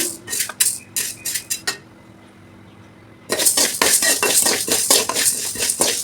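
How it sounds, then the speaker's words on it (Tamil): Horse gram dry-roasting in a hot pan, the hard seeds rattling and clattering against the metal in quick bursts, a short quiet gap, then a louder, continuous stirring rattle. "வானலி சூடாயிடுச்சு அதில் கொள்ளை போட்டு நம்ம வறுத்துக்கலாம்"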